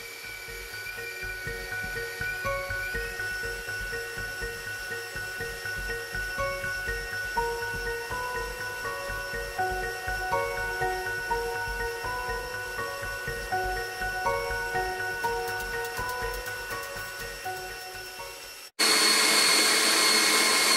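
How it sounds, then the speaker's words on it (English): Seven egg whites are beaten until stiff with an electric mixer, which whirs steadily and fairly quietly with a faint rhythmic pulse and then cuts to a brief louder hum near the end. "I'm going to take my 7 egg whites and I'm going to beat them"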